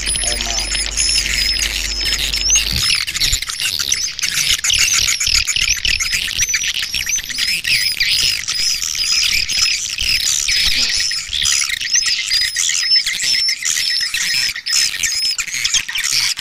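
A dense flock of black swiftlets chirps and squawks continuously at 6:08 in the evening, many overlapping high calls filling the air loudly for the whole stretch.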